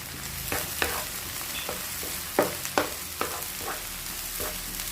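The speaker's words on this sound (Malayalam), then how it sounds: "നല്ലോണം പൊരിയട്ടെ." Vegetables frying in a pan for a vegetable soup and rice dish, a steady close sizzle broken by sharp scraping stirs and spatula taps at irregular intervals, with no talking.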